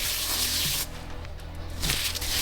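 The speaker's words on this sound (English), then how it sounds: "then spray it on my gloves" Two short hissing bursts from a homemade body mist spray bottle, close by, separated by a brief quiet pause.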